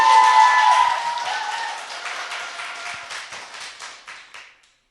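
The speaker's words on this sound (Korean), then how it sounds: "박수 한번 보냅시다" A small studio group on a Korean political talk show claps briefly, starting with a louder burst mixed with voices and then thinning into scattered claps that taper off into silence.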